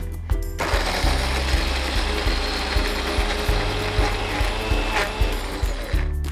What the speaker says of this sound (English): I'm going to actually put everything into my mixer grinder jar